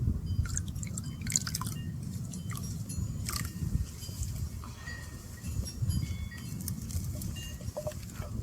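Water dripping and splashing during a ritual offering, with irregular patters and drops over a steady low background rumble, fairly close.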